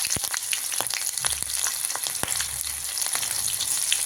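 Green chillies and garlic frying in hot oil, a steady close sizzle with sharp crackles and pops scattered throughout, no voices.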